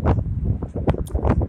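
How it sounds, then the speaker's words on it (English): Strong gusts of wind roar into the microphone during a dust storm in Odessa, Texas, a loud, buffeting rumble that surges and dips in quick bursts with no voice over it. "Very windy today. And it's kicking up, making a major dust storm."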